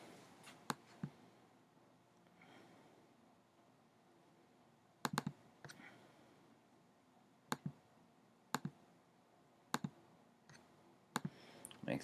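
Mouse clicks during editing in design software, sharp isolated taps spaced a second or more apart, some in quick pairs, over a quiet room background with no talking.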